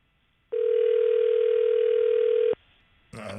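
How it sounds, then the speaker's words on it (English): Outgoing call on a cell phone: a single steady ringback tone, loud and clean, sounding continuously for about two seconds before cutting off, followed by brief noise. "All right, it's ringing."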